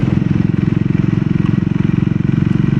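A Triumph Scrambler 400 X single-cylinder motorcycle being ridden, its engine throbbing loud and steady at an even pulse with wind rush, heard close up from the rider's position, with no voices.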